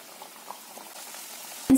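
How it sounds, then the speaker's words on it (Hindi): Chakli (spiral savoury snack) frying in hot oil for Diwali, a steady faint bubbling and boiling fizz that runs on without pause, ending in a short loud clatter near the close. "और इसी तरह बाकी की चकली भी फ्राई करते हैं।"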